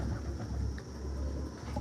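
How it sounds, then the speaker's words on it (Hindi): Pigeons of a breeder's stock offered for sale, soft low cooing from caged birds, faint and close under a steady background hum, no voices. "आपको कबूतर भी फॉर सेल हैं"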